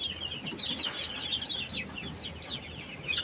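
Gamefowl chicks peep and chirp in rapid, overlapping high calls, steady throughout at moderate distance with soft low background rustle and no talking.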